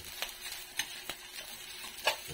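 Fried rice and longganisa stirred in a hot pan, a soft steady sizzle broken by several quick scraping strokes of a spatula, close and quiet with no talking.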